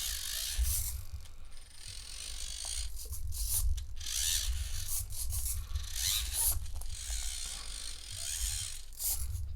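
A four-wheel-steering RC crawler with a Furitek Lizard Pro runs in crab walk mode, giving a steady low mechanical whir and ratcheting gear chatter with quick servo buzzes, close and continuous without talk.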